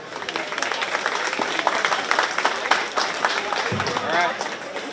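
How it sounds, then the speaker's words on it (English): Applause from spectators in a barn arena at a county fair 4-H/FFA swine show, a steady crackle of many hands clapping with crowd voices and chatter mixed in throughout. "let's give a round of applause"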